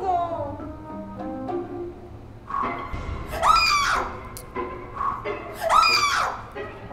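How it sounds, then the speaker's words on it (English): Shrill screams of fright from a young woman during a horror challenge in an abandoned hospital setting, two loud rising bursts after a stretch of quieter voices, with other people talking around them. "I knew this would happen, and yet you screamed."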